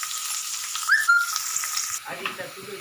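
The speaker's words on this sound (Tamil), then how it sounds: "ஸ்பைசஸ்லாம் நல்லா பொரிஞ்சதும் வெங்காயம் சேர்த்துக்கலாம்" Spices sputtering and frying in hot oil in a pan for cauliflower gravy, a steady bright sizzle with a few louder pops, then a duller, lower crackle as the onions go in; close and continuous.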